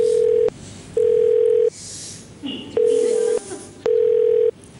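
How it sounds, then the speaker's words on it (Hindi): Telephone call being placed on a television game show set, with a series of loud, evenly spaced ringback tones pulsing in a steady rhythm, separated by short gaps containing faint background noise. "हम फोन लगा सकते हैं विकास जी को, प्लीज?"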